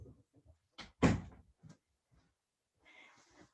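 A house door being opened to let a dog out, with a few soft clunks and a sharper bang near the middle, then a brief hissy rustle at the end, in a quiet room.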